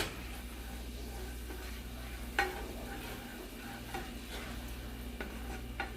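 Sauce reducing in a pan for seared scallops with creamed spinach: a soft, steady simmering sizzle with occasional light scrapes and clinks from a spoon stirring, all fairly quiet.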